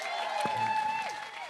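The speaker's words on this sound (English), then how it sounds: "In the meantime, a big round of applause for our main guest, Costa!" Brief audience applause for a guest at a live radio show recorded at a festival, a dense wash of clapping with a tonal hum running through it.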